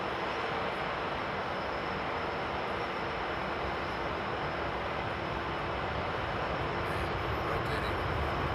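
Airliner rotating on takeoff from a long runway at Frankfurt Airport in frosty weather, heard as a steady broadband engine roar that stays loud and even throughout, with no voices over it.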